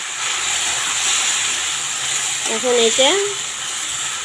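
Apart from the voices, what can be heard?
meat poured into a pan of fried onions, sizzling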